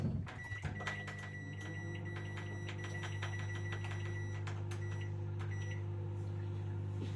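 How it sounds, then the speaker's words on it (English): A home microwave oven runs with a loud, steady low hum and fan drone, preceded by a brief door or button clunk at the start, with a few faint clicks over the constant whir. "I'm just gonna bang them in the microwave"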